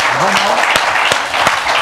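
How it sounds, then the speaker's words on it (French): Audience applause at a French panel event on made-in-France manufacturing, steady clapping with a few sharper individual claps and a brief voice rising over it. "on vous applaudit très très très fort"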